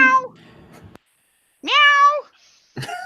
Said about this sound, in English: Say something, kitty.